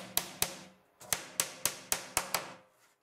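Eight sharp hammer taps in two quick bursts as a pin is hammered into a diorama, small and close, each a crisp knock that dies away fast, with nothing else audible.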